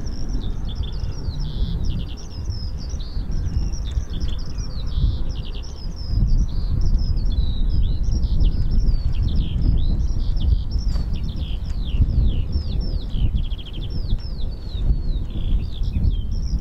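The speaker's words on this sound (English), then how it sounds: "Beautiful sounds of the birds in the background, isn't it?" Birds sing steadily in the background outdoors at RAF Mildenhall airbase, a dense layer of bright chirps and trills that runs without pause over a low rumbling wind-like hum.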